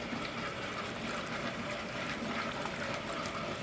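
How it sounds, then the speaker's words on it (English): Water poured into a rock tumbler barrel loaded with sodalite pieces, a steady close splashing and gurgling wash that runs continuously and fairly quietly for the whole stretch. "Okay, so we're gonna add our water."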